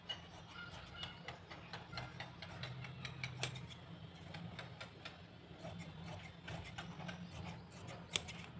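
Scissors cutting fabric for a palazzo, a quiet series of crisp snips and ticks in a fairly regular rhythm, close and mostly alone with little talk.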